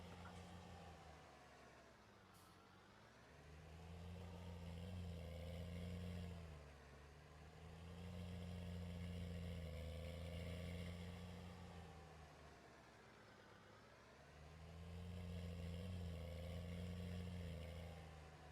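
A steady, low tractor engine in Farming Simulator 19 drones for the whole stretch, rising and falling in waves as it revs up and eases off.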